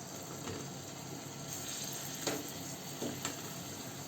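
Raw mango pieces frying in oil in a pan, a faint, steady sizzle with a few soft clicks and knocks over it, no voice.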